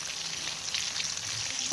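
Marinated fish frying in a pan with ajwain spice, a steady soft sizzle holding even and faint throughout, no voices.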